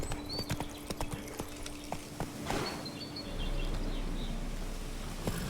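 A horse gallops in The Witcher 3, hooves clip-clopping in a quick steady rhythm close up, then fading into a low rumble of movement with no talking.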